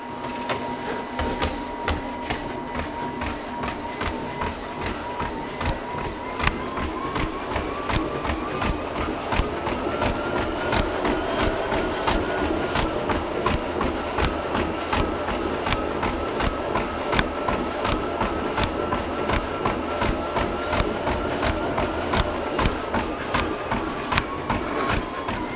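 Bigzzia Gearstone Peloton treadmill belt running steadily at speed 6 mph, with a continuous motor whine and rapid rhythmic footfalls thumping throughout, close and even.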